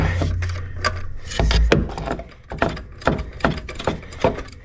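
A 1/4-inch drive ratchet tightens the serpentine belt tensioner on a 1999 Jeep Wrangler TJ, producing a series of close, sharp clicking and scraping strokes in an uneven rhythm.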